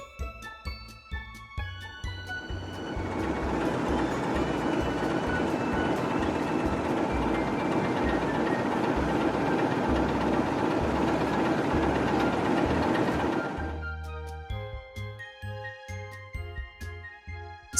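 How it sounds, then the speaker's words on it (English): A bullet train rushes past in a loud, dense whoosh that swells over a couple of seconds, holds steady for about ten seconds and cuts away, with a light tinkling musical backing playing before and after. "Big. Bullet train."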